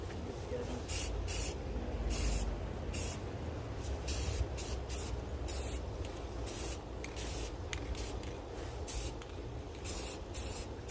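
A spray can lays down a light coat of paint in a rapid series of short hissing bursts with brief gaps between them, fairly soft and close.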